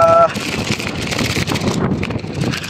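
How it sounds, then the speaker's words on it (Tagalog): Strong gusty wind buffeting the microphone on a dolomite sand beach at low tide, a constant roaring rush under a person talking throughout. "Biglang lumakas yung hangin."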